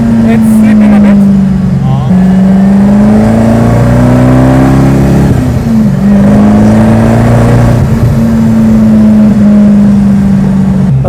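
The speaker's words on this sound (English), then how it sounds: "Now slow drive back home." A car at low speed, its engine droning loudly and steadily with slight rises and falls in pitch, heard from inside the cabin.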